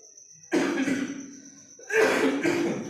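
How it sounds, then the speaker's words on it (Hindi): Someone with a cold coughs close by, two harsh, chesty bouts of coughing separated by a short pause, with no talking. "ठंड की वजह से थोड़ा जुकाम खांसी पड़ा है"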